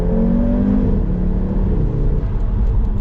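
Inside the cabin of an Audi RS3 8P fitted with an 034 Motorsport carbon intake, the engine drones loudly and steadily, its tone rising and falling with throttle and gear changes.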